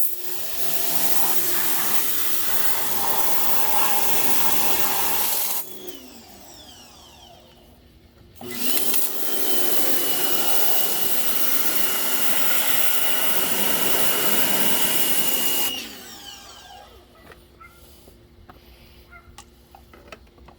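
A small Harbor Freight electric pressure washer runs with a steady, loud motor whine, cutting out briefly partway through, then starting up again for several seconds before shutting off; no talking.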